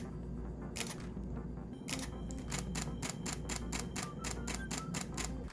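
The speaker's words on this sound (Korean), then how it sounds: "찰칵하고 화면이 까맣게 되었다가 다시 찍을 준비가 될 때까지 시간이 조금 있습니다" A Fujifilm X-T200 mirrorless camera's shutter clicks over and over, first in a few separate shots and then in a quicker, regular run of crisp snaps, heard close up over a steady low background hum.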